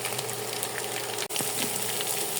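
Chicken drops into a hot pan for a spiced Mughlai paratha filling, setting off a loud, continuous sizzle and crackle of frying with a brief dip partway through.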